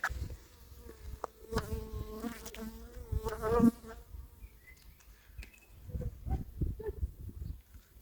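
Honeybees buzz around a breeding split hive during an autumn beekeeping check, with several close, wavering buzzes passing near and fading, mixed with soft handling noises.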